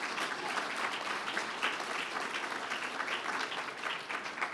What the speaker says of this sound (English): big round of applause for Richard, ladies and gentlemen